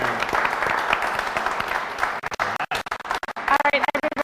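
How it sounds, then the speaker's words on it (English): Applause from a workshop audience rings out for the instructors, a dense clapping wash that thins into scattered individual claps, with a voice starting to speak near the end. "Big round of applause."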